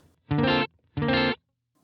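Two sustained electric guitar chords ring out on a clean channel with no reverb, each stopping dead into silence, loud and close.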